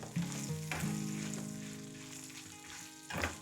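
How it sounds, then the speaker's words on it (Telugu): Whole spices fry in hot oil as asafoetida is stirred in for mango pulihora, giving a steady close sizzle with a few stirring scrapes and no voices. "బాగా ఫ్రై అయిపోయినాయండి. ఇప్పుడు ఒక 1/2 టీ స్పూను ఇంగువ వేసుకొని బాగా కలుపుకుందాం."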